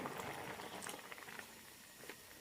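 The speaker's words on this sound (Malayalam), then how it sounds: "കറി നന്നായി തിളച്ചിട്ടുണ്ട്" Cabbage curry boils in a pot with a soft, continuous bubbling and popping, fairly faint and close, with no talk over it.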